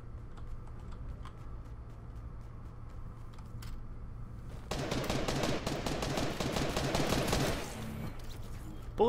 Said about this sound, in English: Bullets are close to me, but not actually hitting me.